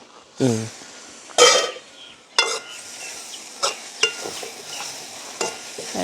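Vegetables sauté in a covered pan, with intermittent clatters of stirring and the lid over a low sizzle; a voice is briefly heard near the start.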